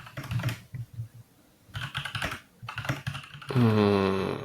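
Rapid clicking of computer keyboard typing during a gaming podcast about 2023 games of the year, steady and close, ending in a brief tonal swell.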